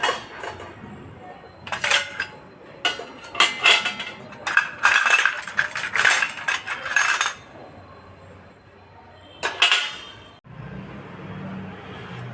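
Steel containers being scrubbed and washed at home: close clattering and clinking of metal in repeated bursts, with quieter rubbing between them and a low hum near the end.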